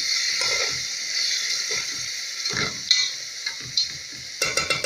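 A spoon stirs butter, salt, oil and water in a cooking pot for potato and leek soup. A soft sizzle runs under irregular scraping and clinking strokes, close and moderately loud, with no talking.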